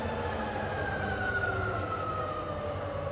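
Rebuilt Bridgeport milling machine with a 42-inch table, spindle running in reverse, giving a steady close mechanical whine with tonal hum that drifts slightly downward and holds without pause.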